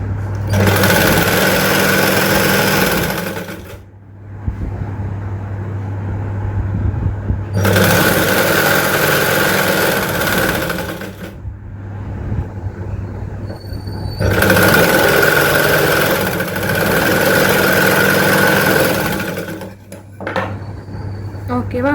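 A sewing machine stitches along a fabric edge, running in three loud, close bursts of rapid rattling stitching. Each burst lasts a few seconds and is split by short pauses.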